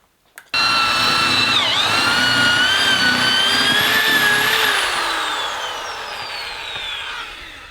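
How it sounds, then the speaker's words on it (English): A power drill whines up loudly and runs continuously, drilling holes for a fireplace mantel, its pitch dipping and rising under load before slowly winding down. "We're going to drill the holes for the mantle."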